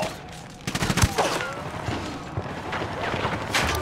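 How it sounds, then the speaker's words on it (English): Gunfire in Ghost Recon Wildlands during a raid on a cocaine depot: a loud burst of shots followed by scattered reports and mechanical clatter, with faint background sounds. "Opening fire."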